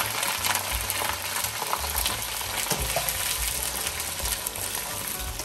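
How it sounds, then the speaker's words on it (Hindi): Large cauliflower pieces fry in hot oil, giving a steady, close sizzle with crackling and occasional stirring scrapes throughout. "गोभी को भी हम फ्राई कर लेते हैं।"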